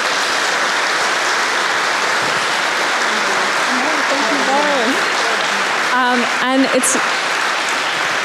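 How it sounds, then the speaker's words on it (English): Steady audience applause fills a book-event conversation hall, holding at an even level throughout; near the end a speaker's voice begins over the dying clapping. "once the applause dies down"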